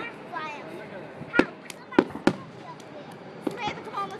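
Fireworks going off at an amusement park, heard as several sharp cracking bangs in quick succession over background crowd noise and voices.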